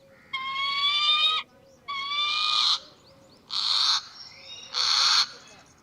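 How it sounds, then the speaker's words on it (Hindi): A falcon call repeats four times, each a drawn-out, high whistling cry separated by short pauses, played back through a small phone speaker. "अब तो आपने सुन लिया फाल्कन पक्षी का आवाज़"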